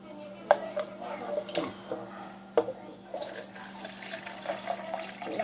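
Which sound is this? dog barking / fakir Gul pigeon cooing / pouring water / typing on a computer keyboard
pouring water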